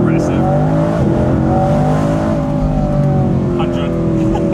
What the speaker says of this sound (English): That is quite an aggressive, more than I was prepared for, launch control, or race start, as they call it in Mercedes.